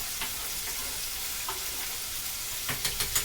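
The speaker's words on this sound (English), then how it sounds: "that chicken is frying up real good" Chicken frying in hot oil on a stove, a steady close crackling sizzle with occasional sharper pops toward the end.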